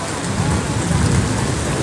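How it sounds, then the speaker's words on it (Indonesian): Heavy rain falls under dark, overcast skies at Park Serpong as a loud, dense, continuous downpour with no break. "Hujannya deras banget di sini teman-teman"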